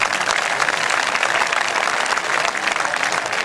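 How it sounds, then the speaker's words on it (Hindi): An audience at a Hindi kavi sammelan poetry recital breaks into dense, continuous clapping, loud and even throughout with no voices over it. "तालियां बजाइए।"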